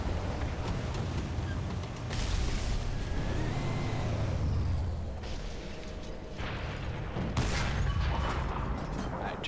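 Gunfire and booming shots in the tank combat game War Thunder, dense bursts and heavy rumbling impacts rolling continuously over a loud battlefield din with no pauses.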